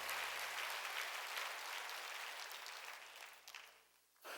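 A church congregation claps together in a steady wash of applause during a Sunday worship service, with no speech, before fading near the end.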